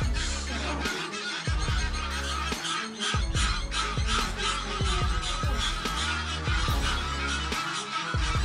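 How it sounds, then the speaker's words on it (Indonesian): A flock of geese honk loudly and agitatedly while defending their nest of eggs, harsh overlapping calls repeating in rapid bursts close by, with no voices. "kawanan angsa di situ marah bukan main"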